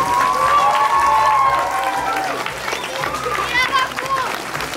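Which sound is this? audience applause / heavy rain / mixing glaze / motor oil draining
audience applause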